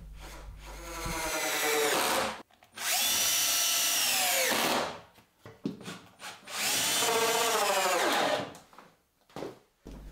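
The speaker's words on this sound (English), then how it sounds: "offer them up, and then drive the screws home" A power drill drives screws into the braces of a wooden garden workbench: three long, loud whirring bursts, each winding up and slowing as the screw seats, with short handling knocks between them.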